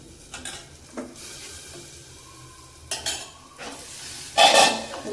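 Onions and vegetables sizzle steadily in a hot pan while a utensil stirs and scrapes against the metal in a few sharp, irregular bursts.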